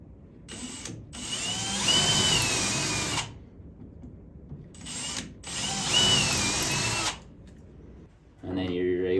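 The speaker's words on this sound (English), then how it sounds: "And then you're going to pre-drill that with an 1/8 inch drill bit" A power drill with a 1/8 inch bit pre-drills holes in a wall for a SkullMAX mount, two whining bursts of a few seconds each separated by a pause, with a voice talking at the end.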